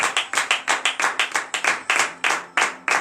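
A church congregation claps in rhythm, giving a steady run of sharp, loud, close claps about every quarter second, with no other sound between them.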